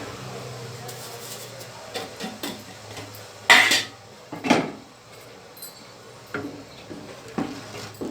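Rice flour batter for rice vadam stirred in a large pot, giving intermittent soft scrapes and metallic clinks of the spoon against the vessel, fairly faint and close against a low kitchen background.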